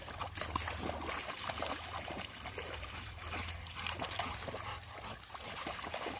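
Rottweiler playing in water, with continuous soft splashing and trickling at moderate distance and no talking.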